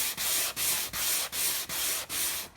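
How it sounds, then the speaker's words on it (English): Sandpaper rubs a fabric chair painted with Fusion Mineral Paint in steady back-and-forth strokes, about six even passes with brief pauses between, close and fairly loud. "maybe I'll start sanding it now just so we can see if it feels like any different afterwards"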